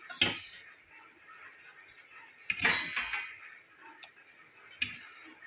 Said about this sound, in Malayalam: ഇനി നമുക്ക് ഒന്ന് ഇളക്കി കൊടുക്കാം